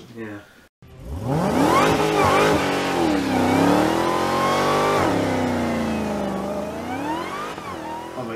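A Dodge Demon's supercharged engine revs up and holds high, its rising supercharger whine carried over the engine roar, with a brief word spoken near the start.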